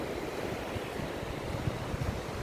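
Evening sea waves at Palolem beach wash steadily onto the shore in a continuous, soft rushing surf, faint and even, with light wind noise and no voices.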